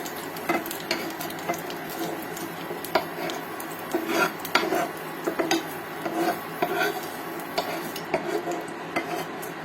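Fried curry leaves and green chilies are scraped out of a pan onto a plate, with repeated metal spoon clinks and scrapes against cookware over a faint sizzle, close up and without speech.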